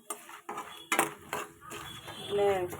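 A spoon clinks and scrapes against a pan while spices and turmeric powder are mixed in, in a few distinct knocks with a faint voice-like hum near the end.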